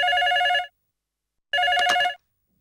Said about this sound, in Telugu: ఏమండి, ఫోన్ వస్తుంది చూడండి ఒకసారి.